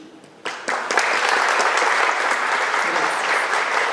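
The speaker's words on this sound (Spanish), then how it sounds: "quiero pedirles a todos ustedes un fuerte y caluroso aplauso en este su día" Audience applause at a school Teacher's Day event, starting with a few claps and quickly swelling into loud, sustained clapping from a large crowd.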